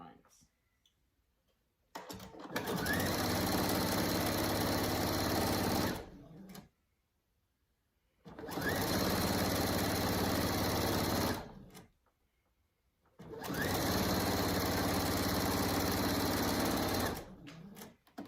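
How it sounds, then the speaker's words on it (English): A domestic sewing machine stitches a straight seam along the edge of slippery men's silk ties. It makes three long, loud, steady runs of fast mechanical whirring, separated by short silent pauses. "I'm going to sew a straight seam all the way down that edge"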